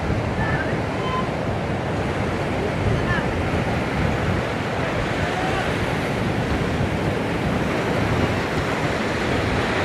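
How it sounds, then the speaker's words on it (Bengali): Ocean waves crash on the beach at Sabrang Zero Point in Cox's Bazar, a continuous heavy roar of surf mixed with buffeting wind noise. "সমুদ্রের গর্জন আমার কাছে সবসময় ভালো লাগে"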